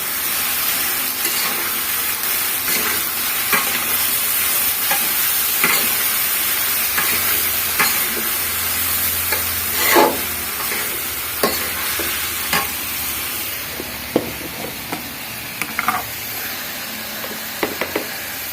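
Vegetables with green chilies and turmeric fry in a pan while being stirred, giving a continuous hissing sizzle broken by repeated scraping and clinking strokes of the spatula.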